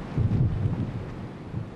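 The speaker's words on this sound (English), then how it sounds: "A lot of the wind coming off the bay is driving some of the water off the bay and ripping it across the street here." Strong storm wind blows off the bay at the Brigantine shore, producing a low, rumbling roar and buffeting gusts across the microphone.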